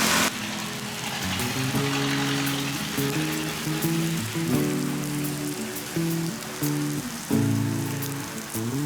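Pork grills on a charcoal mookata stove, giving a continuous close crackling sizzle with irregular pops like rain on a surface, steady and unbroken with no voices.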